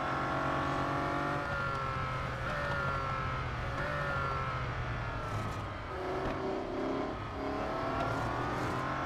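A race car engine in the Real Racing 3 video game roars steadily with rising and falling revs through gear changes, loud and close, with no talking.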